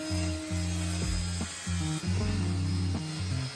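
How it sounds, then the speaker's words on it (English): A saw cuts half an inch off a slightly too long wooden shelf piece, giving a loud, steady rasping drone broken by short pauses and restarts, close up, with no talking. "So we're gonna cut like ½ an inch off and then bring it back down here and attach it."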